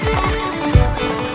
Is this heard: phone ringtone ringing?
no